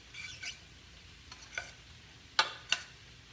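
A spoon stirs a pasta salad with broccoli and other vegetables in a bowl, giving a few soft, scattered scrapes and clicks, two of them sharper, with no talking.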